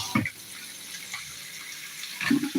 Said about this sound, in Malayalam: ഞണ്ട് ഇങ്ങോട്ട് കഴുകിയിട്ട് കൊടുക്കാം